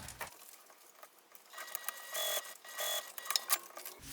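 A sewing machine top stitches through jelly vinyl on a travel pouch, quiet intermittent stitching bursts that grow busier toward the end, with light clicks and rustles.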